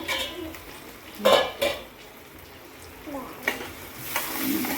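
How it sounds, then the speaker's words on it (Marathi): A lid set on a pan of tomatoes cooking on the stove, producing a couple of clanks of metal against the pan over a soft low sizzle. "पुन्हा पाच मिनटासाठी आपण टोमॅटो शिजायला ठेवूया जा आणि याच्यावरती झाकण ठेवूया"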